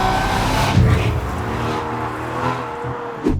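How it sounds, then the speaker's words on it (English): Aston Martin V12 Vanquish fitted with an aftermarket Quicksilver exhaust, a dense continuous engine roar with a rising rev and rumbling low tones, loud and near throughout. "this car's actually fitted with an aftermarket Quicksilver exhaust"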